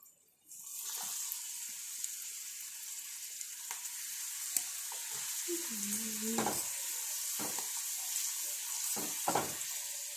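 Papadam frying in reused oil in a home kitchen, a soft, steady sizzle with occasional sharper crackles and clinks, faint and close, no voices.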